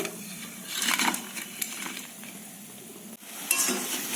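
Potato pakoras frying in hot oil, a soft continuous sizzle with light clinks and stirring scrapes from a utensil in the pan, fairly quiet and close.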